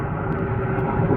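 A Delta Connection CRJ regional jet passes overhead near a runway, its engine roar a steady, fairly loud rumble throughout the brief moment.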